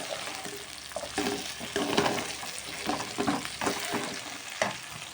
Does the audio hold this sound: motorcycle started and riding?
no